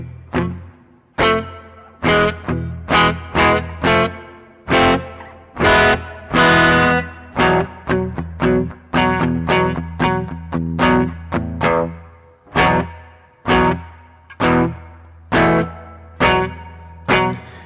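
Electric guitar played through a reverb effect with a high-pass filter and high damping, a series of loud strummed and plucked chords and notes with ringing decaying tails, close and alone with no talking.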